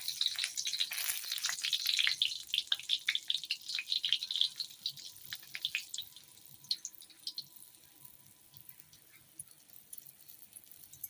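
Rava-coated bangda mackerel laid on a hot tawa, a crackling sizzle that is loud at first and then settles into quieter, scattered spitting and popping, with no talk.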